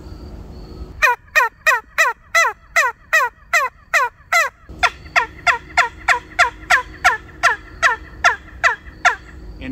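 A wingbone turkey call made from turkey wing bones, blown to imitate a wild turkey, gives a quick series of about twenty sharp, evenly spaced yelps, loud and close, in two runs with a brief shift midway.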